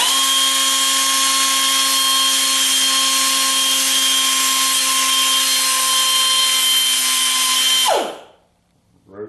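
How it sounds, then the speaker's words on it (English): A grinding cutoff wheel trims a ragged piece off a 1976 Corvette valve cover, a loud steady high whine held for about eight seconds before it abruptly spins down into quiet. "So what I've been doing is just taking my grinding cutoff wheel,"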